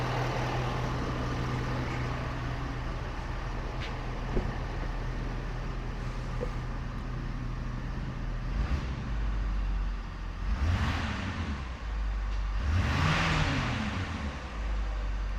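A 2023 Ford Super Duty truck with the high-output Powerstroke diesel engine idles with a low, steady rumble, then revs up twice near the end. Each rev brings a rising, swelling engine roar that falls back toward idle, and no one speaks.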